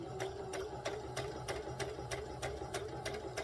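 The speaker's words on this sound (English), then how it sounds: "we're going to sew that. I'm going to come towards myself with it" Close by, a sewing machine stitches fabric for a little girl's dress, humming with a steady rapid needle tick at an even pace and no talk.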